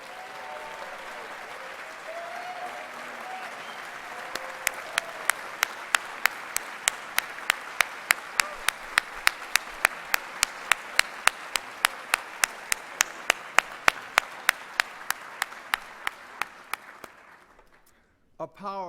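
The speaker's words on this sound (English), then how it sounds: "Please give a very, very warm round of applause to Wayne Shorter." Warm applause from a jazz saxophone competition audience, starting as a soft crowd wash with a voice at the start, then a steady rhythmic clap rising above it before fading out.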